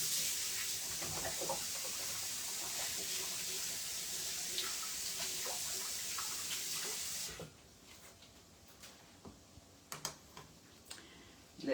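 Running tap water pours into a sink while hands are rinsed, a steady broadband hiss for about seven seconds that cuts off abruptly, leaving faint clicks and small knocks in a kitchen during breakfast cooking of salmon croquettes.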